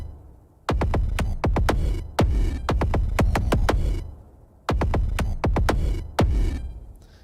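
A time-stretched percussion kit sample plays as sharp repeated hits with a droning, tonal smear underneath, in two rhythmic bursts separated by brief quiet gaps.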